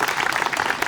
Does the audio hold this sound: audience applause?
yes